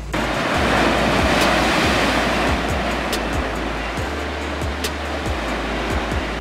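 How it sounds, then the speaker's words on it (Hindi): Sea waves crash and wash continuously onto the shore at Ratnagiri, Maharashtra, near a beached abandoned ship, a loud steady roar of surf with wind buffeting the microphone and no talking. "क्या लहरें चल रही हैं।"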